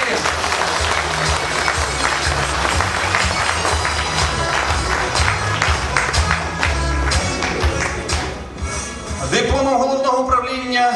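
Sustained audience applause at a school award ceremony, dense and even clapping that dips briefly before a tonal sound and voice emerge at the end.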